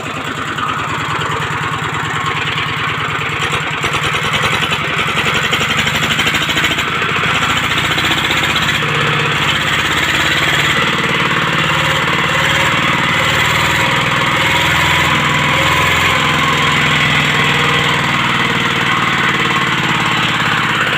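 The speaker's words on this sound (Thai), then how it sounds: "ET หัวฉีดธรรมดาลูกสูบไดเล็ก 14 แรง" A 14-horsepower ET engine with a direct-injection piston and standard injector runs loud and close, with a steady chugging drone that holds throughout.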